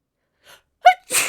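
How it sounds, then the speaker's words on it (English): A single sharp sneeze with a quick intake of breath before it, close and alone. "is that a confirmation sneeze?"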